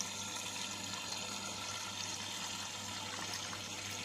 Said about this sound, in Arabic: ابدا احط الخل بتاعي، كوبايه خل اهي.